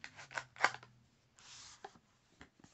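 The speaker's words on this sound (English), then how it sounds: "So with my unboxing, you get to see a knife being closed" A Boker folding knife is handled and shut during an unboxing, giving a few short, crisp metallic clicks and snaps with a brief scraping rustle between them, close and fairly quiet.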